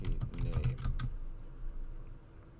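Quick clicking keystrokes on a computer keyboard in a rapid burst during the first second, followed by sparser, quieter taps, close and alone with no talk.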